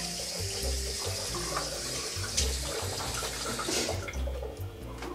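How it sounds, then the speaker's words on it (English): A bathroom tap runs into a sink while cold water is splashed onto a face, giving a steady, near stream of water with soft splashes and gurgles in an uneven rhythm, with no talking. "I just put cold water on my face"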